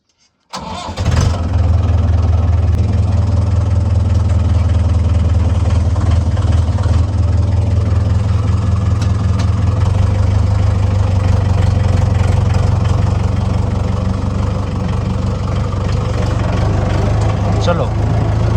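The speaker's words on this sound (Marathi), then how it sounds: "बघा आपला ट्रॅक्टर." A farm tractor engine cranks and catches, then settles into a steady, loud, low rumbling idle that holds close by for the rest of the stretch.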